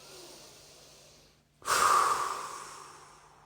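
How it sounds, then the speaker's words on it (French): A single breathing exercise: a quiet inhale through the nose, a short pause, then a loud, forceful blow out through the mouth that slowly fades, close up with no talking. "vous allez inspirer par le nez et souffler fortement par la bouche"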